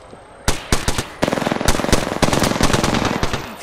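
Apex Legends gunfire rattles out in rapid automatic bursts, loud and close, with a few single shots first and then a dense sustained stream of shots with no talk over it.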